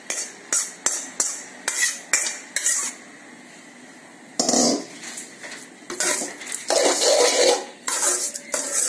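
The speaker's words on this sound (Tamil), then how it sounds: "சாதத்தை இந்த தேங்காய் தாளிச்சு வச்சிருக்கோம்ல அதோட கலந்து நல்லா கலந்துக்குவோம்" A spoon stirs cooked rice together with a coconut tempering in a metal vessel, producing a quick run of rhythmic clinks and scrapes followed by longer scraping strokes, close up with no speech.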